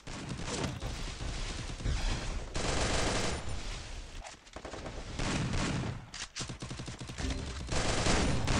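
Gunfire in Free Fire, with loud bursts of shots and rapid firing that keep coming in dense clusters, broken by brief pauses, close and harsh.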